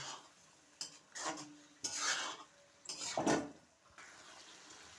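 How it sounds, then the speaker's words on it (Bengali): Fish pieces are stirred into spice paste in a pan, making soft, close scraping and sloshing strokes in a few short bursts, fairly quiet. "মশলাটা আমার হয়ে গিয়েছে এখন আমি মাছগুলো দিয়ে দিচ্ছি মাছগুলো দিয়ে ভালো করে আমি নাড়িয়ে নেব"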